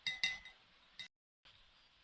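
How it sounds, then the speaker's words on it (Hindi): A spoon clinking against a bowl while stirring sugar into a dessert mixture: two quick bright clinks, then a softer tap after a short pause, close and quiet. "इसमें हम डाल रहे हैं 1 चम्मच चीनी भी, और इसे अच्छी तरह मिक्स कर लें।"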